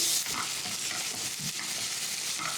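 Vegetables sauté in a hot pan with a continuous close sizzle and the scrape of stirring throughout.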